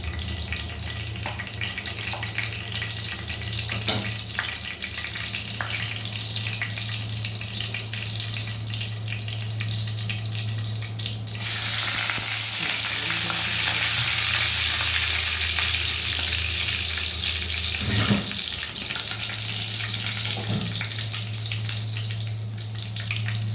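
Panch phoron spices sizzling in hot oil while paneer kofta is prepared, a steady frying hiss with a low hum beneath it, a louder burst of sizzle midway, and occasional stirring clinks.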